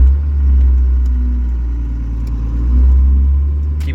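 Rebuilt 500hp second-generation Cummins diesel truck engine idling steadily just under 750 rpm, a loud, close, deep rumble with light clatter and gentle swells in level, no talking.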